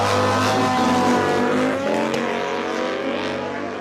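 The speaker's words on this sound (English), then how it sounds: "You can hear Tommy shifting that bike as he goes down the track." A Harley-Davidson and a Ninja motorcycle race down a quarter-mile drag strip, one engine screaming loud and close as it climbs through the gears, with audible shifts breaking the rising whine before it fades slightly into the distance.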